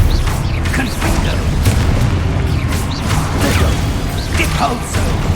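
Confringo fire blast spell cast in Hogwarts Legacy, sounding as repeated booming bursts and whooshes over a dense, steady battle din, with a few short pops scattered throughout.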